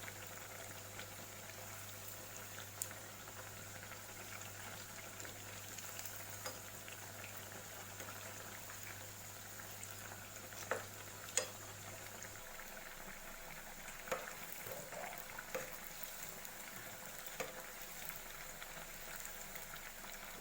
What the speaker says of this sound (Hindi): 3 मिनट के लिए एक साइड से फ्राई होने देना है।